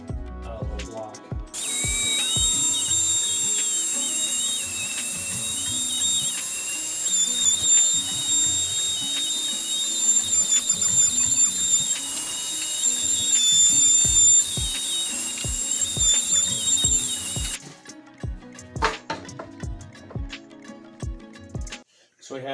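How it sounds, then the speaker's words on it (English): A router cutting freehand into a steel door jamb, a loud high whine held for about sixteen seconds with chattering clicks of metal, then spinning down into scattered clatter. "I do not have a jig for routing exterior jam, so we just do it freehand with a little block."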